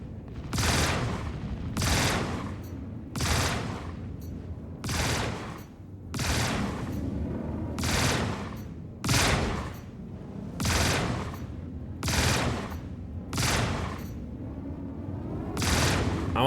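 Bursts of gunfire strike the player's ship in Star Citizen, a dozen loud rapid volleys spaced roughly a second apart, each a sharp crackling barrage over a low rumbling engine drone.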